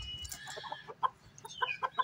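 A hen clucks in short, quiet bursts, a few soft calls spaced irregularly against a faint background.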